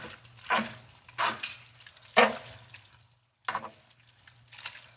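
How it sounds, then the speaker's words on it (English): Black spaghetti being tossed in a pan of pasta sauce made with champagne, giving several separate scraping, sloshing stir bursts over a low steady hum, each fairly close and clear with short quiet gaps between, and no voices. "just make sure we give it a good toss so that our pasta sauce is coating all of the noodles"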